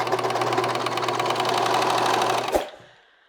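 A serger stitches over a clipped fabric corner, whirring in a fast, steady rhythm up close for about two and a half seconds before a thump and quick wind-down to quiet.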